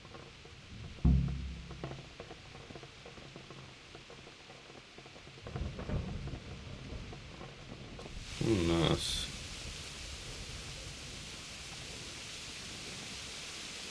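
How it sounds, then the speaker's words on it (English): Rain and thunder in the medieval game Kingdom Come: Deliverance, a steady hiss of rainfall with low rumbling thunder rolls, mixed with occasional game sounds and a brief spoken word. "It's a bit rainy."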